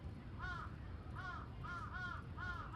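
Crows give a series of harsh, harmonic caws, about five calls spaced roughly half a second apart, moderately near, over a low rumbling background with no speech.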